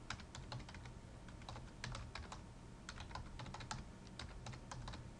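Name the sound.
typing a password on a computer keyboard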